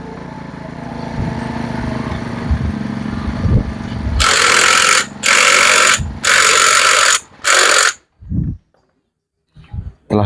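A power tool tightens the nut on the rear pulley of a Yamaha Mio motorcycle in a workshop, four loud whirring bursts with short gaps, preceded by low shop clatter and followed by a couple of brief knocks.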